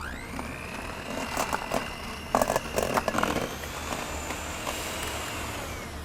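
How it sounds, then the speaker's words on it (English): An electric hand mixer whirs steadily through pumpkin pie filling in a bowl, its motor hum joined midway by bursts of rattling and scraping against the sides. "we're going to take a mixer and we're just going to mix it all together until it becomes like a dough"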